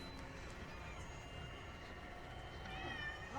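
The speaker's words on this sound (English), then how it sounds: "And now there's a cat." A cat meows a few times against a steady, fairly loud background hiss, the cries rising near the end.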